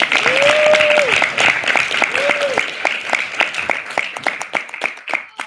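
Sustained applause from an audience at a student senate meeting, dense clapping for several seconds that slowly thins out, with a voice briefly audible over the start.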